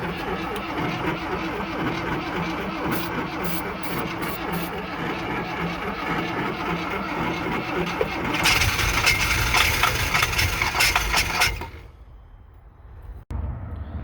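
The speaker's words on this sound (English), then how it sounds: "now we're going to try to get it started with starter fluid and see if we can get it at least to fire up" A 1985 VW Vanagon Westfalia engine cranks on starter fluid, a long steady mechanical churning from the starter, rising louder before cutting off abruptly, followed by quiet and a sharp click.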